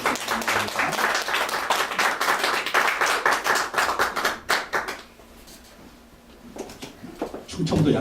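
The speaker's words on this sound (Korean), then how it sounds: "우리 박수로 한번 환영하겠습니다." A Korean Sunday church congregation claps to welcome a missionary, loud, distinct hand claps in a lively burst that thins out, drops to near quiet, then picks up again briefly.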